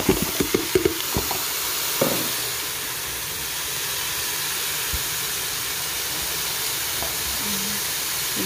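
Vegetables go into hot oil in a Cookeo multicooker while making hrira: a few quick clattering knocks, then a steady, soft sizzling hiss that carries on evenly to the end.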